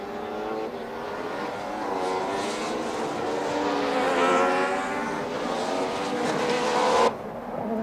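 1995 DTM touring race cars roar past in a dense pack, engines wailing at high revs with rising and falling pitch as they pass, loud and sustained before cutting off abruptly near the end.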